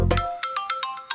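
A mobile phone ringtone plays for an incoming call, a short repeating melodic pattern of bright tones, close and clear with no talking over it.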